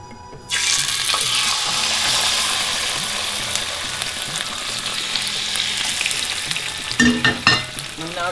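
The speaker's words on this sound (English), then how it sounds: "we need to fry the salmon and the 2 tablespoons of olive oil" Salmon fillets sizzle skin side down in hot olive oil in a pan, a loud steady fry that starts abruptly and holds throughout, with a few brief clatters and bursts near the end.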